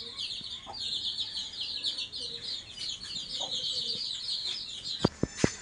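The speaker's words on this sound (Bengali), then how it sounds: "মুরগিকে ওমে বসিয়ে দেওয়া হয়েছে ডিমে তা দেওয়ার জন্য" A hen sitting on a clutch of 14 eggs on a farm gives soft, low clucks, with a steady high chirring in the background and a few sharp knocks near the end.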